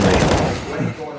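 Gunfire in a CS:GO match at Starladder Berlin 2019, with a loud burst at the start that fades into a quieter tail as a caster keeps talking.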